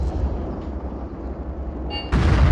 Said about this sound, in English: now we are having some anti-tank guns action